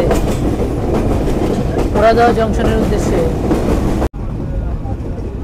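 The Kopotaksha Express passenger train runs through rain on the Khulna to Rajshahi line toward Poradah Junction, a loud steady rumble with clattering wheels and brief squeals, under a man's speech, cutting off abruptly near the end.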